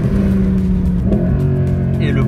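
Mercedes-AMG C63 Black Series, 517 hp, revving in manual paddle-shift mode, a loud close engine drone with rising pitch and a sharp upshift, with people talking over it.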